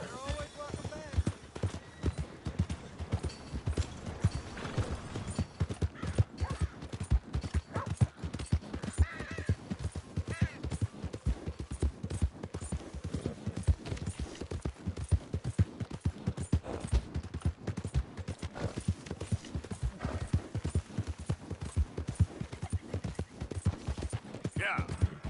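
Horse hooves clip-clop steadily in Red Dead Redemption 2, playing under near-continuous talk. A horse whinnies faintly and a crow caws in the background.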